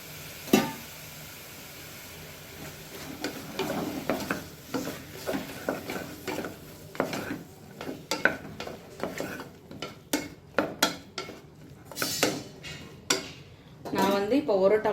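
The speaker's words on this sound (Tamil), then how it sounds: "இப்போது க்ளீன் பண்ணி கட் பண்ண மஷ்ரூமை இதில் சேர்த்துக்கலாம்." Cleaned and cut mushrooms go into a pot and are stirred, with repeated metallic clinks and scrapes of a spoon against the pot over a faint sizzle, gathering pace toward the end.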